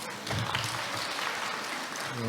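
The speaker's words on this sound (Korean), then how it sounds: "박수로 좀 환영해 주실랍니까?" A seminar audience applauds to welcome a speaker, a brief dense burst of clapping from a room of people.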